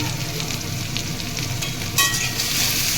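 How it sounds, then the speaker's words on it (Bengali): Papaya and potato pieces fry with salt and turmeric in a pan for a prawn and papaya curry, a continuous close sizzle that swells louder with a burst of crackling partway through as the pieces are stirred. "স্বাদ মতো লবণ দিয়ে আমি পেঁপে আলুকে একটু ভাজা ভাজা করে নেব।"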